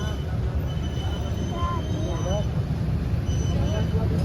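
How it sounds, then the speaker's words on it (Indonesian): The Serayu train, running with a double locomotive, pulls into Bandung station with a low, constant rumble and faint squealing wheels in the middle, under a voice talking nearby. "sepertinya kereta api Seraya sudah mendekat merapat stasiun Bandung"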